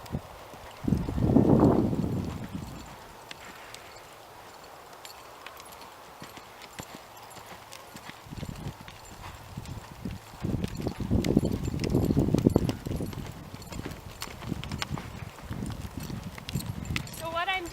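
A horse's hooves thud and clip-clop on the ground as the horse picks up from a walk into a lope, the beats growing louder and quicker, with a rider talking throughout.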